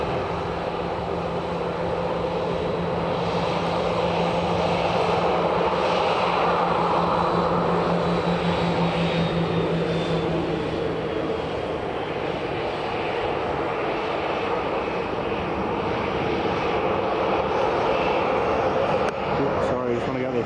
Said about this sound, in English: KLM 737-900. Now just lined up.